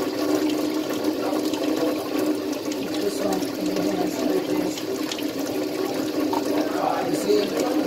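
Warm water runs steadily from a household tap during handwashing, a continuous close splashing hiss that fills the whole stretch with no talk over it.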